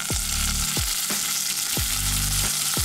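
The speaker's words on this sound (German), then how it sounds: "Bratet die Aprikosen mit den Pistazien kurz in Ghee an und gebt dann die feinen Kokoschips und den Basmati dazu." Apricots, pistachios, coconut chips and basmati rice fry in ghee with a steady close sizzle, broken by a few scraping stirs of a spatula through the pan.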